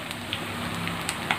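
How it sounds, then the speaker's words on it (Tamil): Soft, irregular crackling and sizzling pops of drumstick leaves frying in hot ghee, steady and close with a few sharper spits. "முருங்கைக்கீரை போட்டு நல்லா வெடிக்கணும்."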